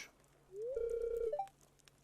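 A phone in the farming game Stardew Valley gives a short electronic tone that rises, holds steady for about half a second, then steps up in two quick higher blips. It is clear and moderately loud over a faint hum.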